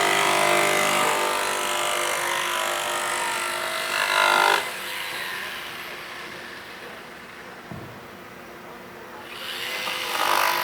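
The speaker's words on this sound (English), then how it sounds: "So he's taking a jigsaw," A jigsaw cuts the tip off a snowboard in a snowboard factory. The loud buzzing saw runs for about four seconds, stops, gives a brief bump near the eight-second mark and starts up again at the end.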